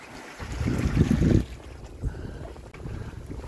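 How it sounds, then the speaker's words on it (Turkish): Wind of about six to seven knots rushes over a sailboat at sea on the Pacific, gusting loudly across the microphone at first, then easing to a lower, steadier blow with light bumps. "Rüzgar başladı. Bir 6-7 nat."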